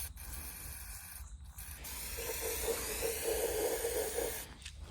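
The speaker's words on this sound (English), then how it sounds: "I'll get some brake cleaner on it." Brake cleaner sprayed onto the spark plug of an old abandoned motorcycle, a soft steady hiss lasting a couple of seconds, close by over faint background noise.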